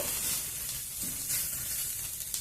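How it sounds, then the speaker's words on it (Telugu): Okra frying in a pan with coconut powder and garlic chili, a close, steady hissing sizzle with faint stirring scrapes throughout, no one speaking. "కొబ్బరి పొడి వేసినాము కదా, కొంచెం వేయించుకుంటే అయిపోతుంది"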